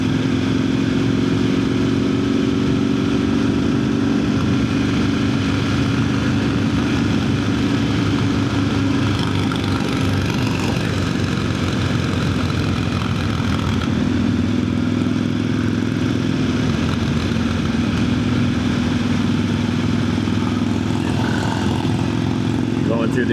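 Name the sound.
1000cc 168 horsepower motorcycle engine riding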